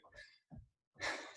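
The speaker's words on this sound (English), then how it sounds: "Y'all probably can hear me breathing." A person breathes heavily during a jumping-jack workout: two short, breathy exhales close to the mic, a brief pause, then a longer, louder sighing breath.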